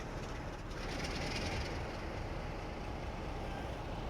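Simulated train at Glasgow Central running over a buffer in a railway video game, a steady loud rumble of wheels and engine noise with broadband rattle throughout, no voices.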